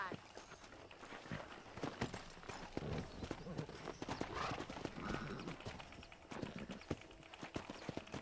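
Hoofbeats of a pack of wild horses in the western video game Red Dead Redemption, busy clip-clop running through most of the stretch, mixed with game sound and with talk over it.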